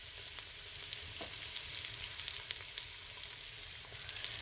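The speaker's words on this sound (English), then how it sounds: "So now we're adding zira, cumin seed" Cumin seeds (zira) fry in a pan for a gobi keema dish, giving off a soft, continuous sizzle with scattered tiny pops and a faint stir. The sound stays quiet and even throughout.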